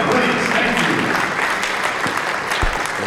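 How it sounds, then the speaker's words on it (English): Sustained applause from a pool tournament audience at a Las Vegas 10-ball event, greeting the host, Charlie Williams. Dense, steady clapping fills the whole stretch at a loud, even level, with a few sharper claps standing out. "Let's give a round of applause for our host"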